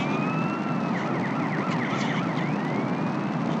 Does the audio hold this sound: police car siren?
yes